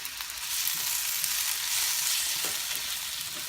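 A teaspoon of shrimp paste fries in a pan and is stirred, producing a continuous bright sizzle that stays steady and fairly close, with faint scraping movement underneath.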